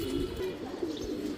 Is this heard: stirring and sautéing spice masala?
no